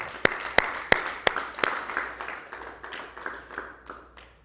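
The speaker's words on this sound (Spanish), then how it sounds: "Démosle un aplauso, Señor, hermano." Applause at a church seminary study, beginning with a few sharp, loud, evenly spaced claps, then softening into quieter, faster, blended clapping that fades over several seconds, with no talking over it.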